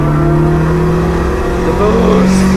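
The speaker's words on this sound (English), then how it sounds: "The boost kicking in." Toyota Starlet GT Turbo racing on the Nürburgring, its engine droning steadily and loud from inside the cabin as turbo boost builds, with the pitch slowly climbing.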